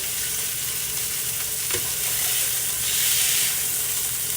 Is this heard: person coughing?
no